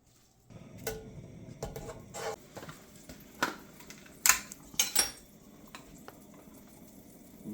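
Cut venison tossed with Everglades seasoning clicks and clatters against a bowl or pan in a run of irregular, close, light knocks and scrapes with quiet gaps.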